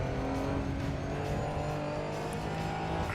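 A racing car engine in the video game Assetto Corsa EVO drones steadily at high revs with tire squeal mixed in as the car drifts around Suzuka, a continuous loud roar throughout.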